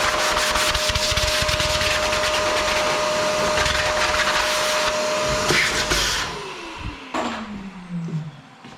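Compressed air blowing dust out of a computer workstation: a loud, continuous rushing hiss with a steady whine that stops near the end. A motor then winds down in a falling tone, with a few clicks and bumps.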